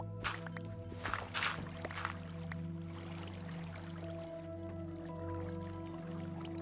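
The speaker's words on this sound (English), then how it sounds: "You hear that? That's all the water flowing." Flowing water in a Minecraft creeper farm, a steady constant trickle and gurgle with scattered drips, moderately loud throughout and no speech over it.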